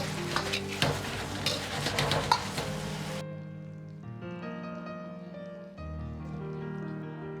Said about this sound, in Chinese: 最后开大火快速翻炒几下，炒出锅气，炒出香味